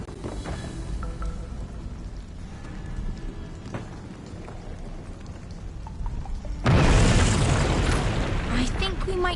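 A bomb blast in We Happy Few: after a stretch of low ambient noise, a sudden loud, broad roar bursts in and keeps rumbling to the end.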